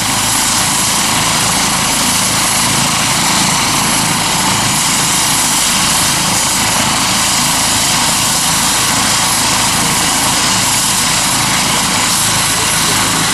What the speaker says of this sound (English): now watching Medford's helicopter taking off